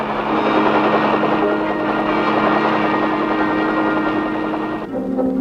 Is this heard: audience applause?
no